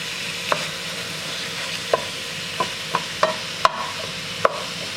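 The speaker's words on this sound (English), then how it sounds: "I placed 1 pound of ground beef. I'll chop it up." One pound of ground beef being broken up with a utensil as it fries in a pan, with sharp scraping knocks at an irregular pace over a quiet, steady sizzle.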